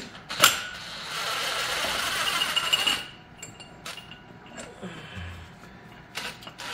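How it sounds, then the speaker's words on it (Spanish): A tool works the last screw loose near a car radiator on a Fox Body engine job, giving a few seconds of steady whirring followed by scattered metallic clinks and creaks, heard close. "ya saqué tres tornillos, me queda nada más uno para sacar aquí"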